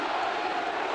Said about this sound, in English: And the St. Louis crowd gets behind its catcher.